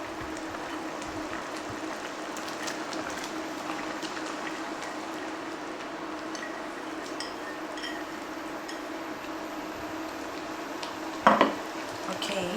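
Carrots and beans being stirred into Thai green curry made with jarred curry paste, a steady low sizzle under soft stirring scrapes, and a sharp clink of the utensil against the pan near the end.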